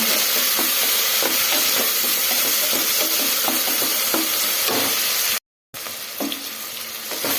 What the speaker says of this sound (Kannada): ಟೊಮೆಟೊ ಸೇರಿಸ್ಕೊಂಡು ಈ ಥರ ಚೆನ್ನಾಗಿ ಮಿಕ್ಸ್ ಮಾಡ್ಕೊಳ್ಳೋಣ